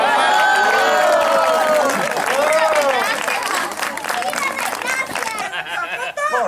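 Audience at a hotel campfire show applauding and cheering, loud sustained clapping mixed with whoops and crowd chatter, voices calling out over the applause as it carries on.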